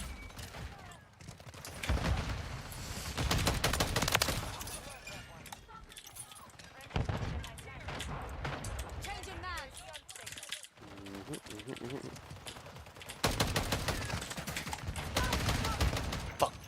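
Automatic gunfire in Call of Duty Modern Warfare 3, delivered in repeated bursts with pauses between them and mixed with other game sounds, while a player talks over much of the action.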